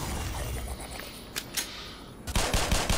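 Rapid gunfire in the video game Black Mesa, a dense burst of close, loud shots, a lull with a couple of isolated pops, then another quick cluster of reports at the end.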